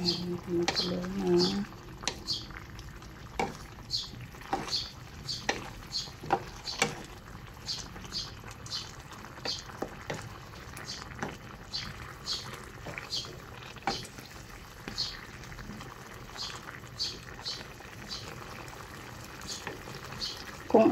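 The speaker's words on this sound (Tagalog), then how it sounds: "Ayan, kumukulo na." Irregular bubbling and popping of water boiling in a pot with squash, steady throughout, with a faint voice early on.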